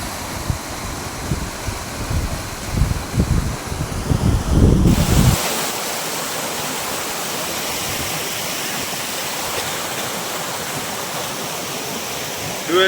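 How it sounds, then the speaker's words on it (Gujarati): Strongly flowing river water roaring steadily nearby; the first few seconds carry low rumbling wind buffeting on the microphone, then the rush continues evenly on its own. "અહીંયા પાણીનો પ્રવાહ પણ બહુ ખૂબ સરસ છે."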